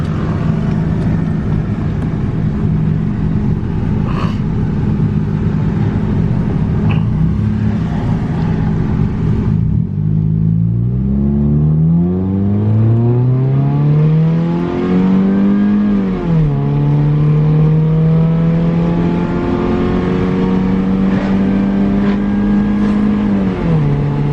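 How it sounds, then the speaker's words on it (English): A cheap used $400 car's engine runs up close with a loud, steady drone that climbs and dips in pitch as it revs before settling back to a low idle. "Yeah, it still idles low, but it idles pretty good."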